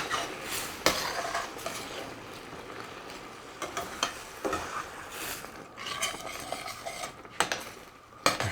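Vegetables and coconut milk being stirred in a pot, with steady scraping and clinking of a utensil against the metal sides, close and fairly loud, in irregular strokes with no talking.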